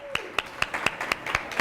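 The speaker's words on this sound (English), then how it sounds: "Let's give a huge round of applause for our wonderfully talented book champions." A small group clapping for book champions at a university reading kickoff, sparse and rhythmic with about eight distinct, evenly spaced claps rather than a full ovation.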